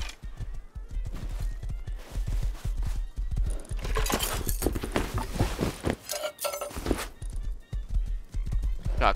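Steady clip-clop of horse hooves in Rust, a rapid ongoing rhythm at moderate volume, with louder clattering bursts midway and scattered game noise underneath.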